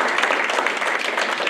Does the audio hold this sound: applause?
yes